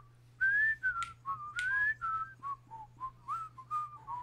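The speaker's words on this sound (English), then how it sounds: "Can you do some Andy Griffith whistle?" A person whistles the Andy Griffith theme, a clear close melodic phrase of short gliding notes in a steady rhythm over faint background hum.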